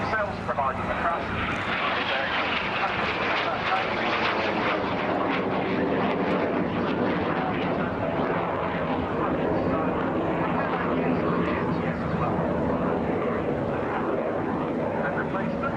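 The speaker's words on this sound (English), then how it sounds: "It's a turbo prop, so it has a jet engine" A turboprop training aircraft's engine drones steadily, a loud broadband roar with a humming tonal layer that shifts slightly over the whole stretch, close and continuous.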